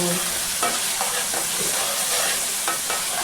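Spiced paste sizzles steadily in hot oil in a pan, with a few soft scraping strokes of a stirring spoon at irregular intervals, close and fairly loud.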